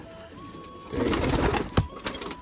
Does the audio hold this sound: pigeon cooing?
yes